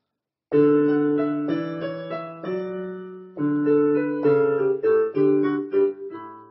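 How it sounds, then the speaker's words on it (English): Two keyboard lines, a low bass and a high melody, move through a slow sequence of sustained notes, played cleanly with no talking. "first I'll just play the outer voices"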